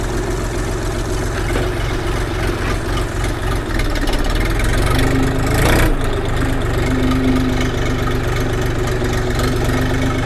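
A Forte XT244 three-cylinder tractor engine runs steadily at close range, a loud, even diesel chug with a slight change in tone midway as a gear is engaged, and no talking.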